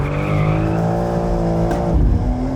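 A BMW M4 Convertible in rear-wheel-drive mode turns in and oversteers, its engine droning loudly as the tires squeal and skid near the end.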